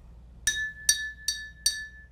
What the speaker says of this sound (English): I have water in here, and as you tap it,